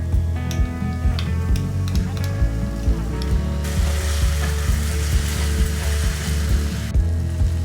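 Whisked sour curd hitting hot masala in a pan for a restaurant-style pea and mushroom curry, giving a loud, steady frying sizzle with a sharper burst midway and occasional stirring clinks.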